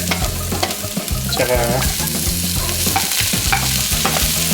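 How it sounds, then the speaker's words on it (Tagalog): Garlic, onion and tomato sautéing for beef caldereta, a Filipino beef stew: a steady close sizzle with repeated scraping stirs in the pan, and a brief spoken word near the start. "Dito na rin natin igigisa yung bawang sibuyas natin tsaka yung kamatis."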